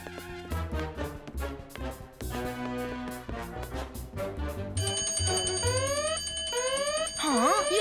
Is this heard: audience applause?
no